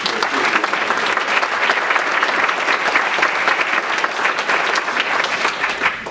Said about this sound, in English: he deserves a huge round of applause.